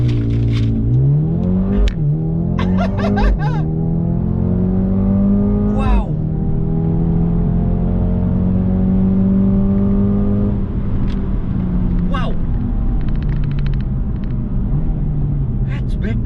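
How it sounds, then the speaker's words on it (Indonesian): A 2020 Mercedes-AMG A 35 accelerates hard under launch control in Sport Plus mode with traction control off, the engine rising loud and close through several rapid, harsh gear shifts, with someone talking over it. "Ada launch control dan perpindahan giginya itu kasar, duak itu benar-benar seperti drag race."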